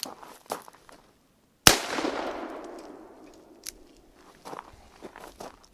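.44 Magnum revolver fired at close range into a ceramic Level IV armor plate: one sharp, loud crack with a long decaying echo, preceded and followed by faint handling clicks and shuffling.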